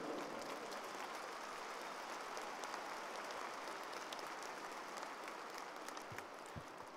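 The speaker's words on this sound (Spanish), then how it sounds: "Vamos a recibirla con un fuerte y caluroso aplauso" Applause rises from the audience at a youth wind band concert in Oaxaca to welcome a clarinetist from the Banda Filarmónica Juvenil de Capulalpan de Méndez; steady, distant-sounding clapping that holds evenly throughout.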